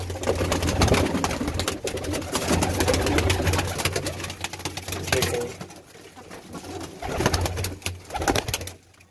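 Pet pigeons, mostly red-eyed birds kept as a household hobby, coo steadily from a nearby home loft, with wing flutters and someone talking over them throughout.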